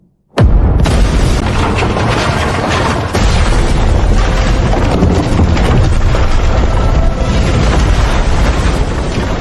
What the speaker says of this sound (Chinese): 哪来的雷声？